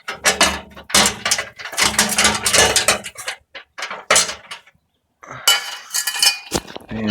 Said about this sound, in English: What we do is we unscrew these two little bolts,